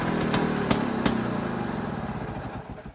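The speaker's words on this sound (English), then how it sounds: "It's got a bit of a sticky throttle. Kind of works like cruise control. You can just keep it like that and it just keeps revving." A 1967 Lambretta scooter engine with a sticky throttle holds a steady high rev, buzzing continuously up close with a few sharp clicks early on, then slowly fading slightly toward the end.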